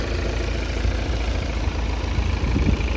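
A diesel engine of a 2015 Volvo S80 2.0 D4 idles steadily and close by, a low continuous rumble with a faint rhythmic knock and no voices.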